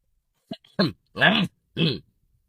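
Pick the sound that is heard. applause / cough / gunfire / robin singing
cough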